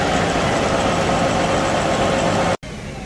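Hydraulic motor on grain-bag equipment rolling up a grain bag and pulling a tractor backwards: a steady, loud, continuous engine drone with dense broadband machinery noise, briefly cut at the end before resuming.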